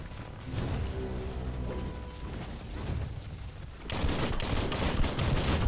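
Gunfire in the video game Biomutant, a steady dense clatter of rapid shots layered with mechanical noise, growing harsher and louder partway through.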